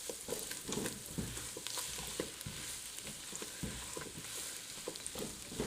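Butter melts in a pot over low to medium heat, giving a continuous close sizzle and crackle with small pops, with a little stirring and no talking.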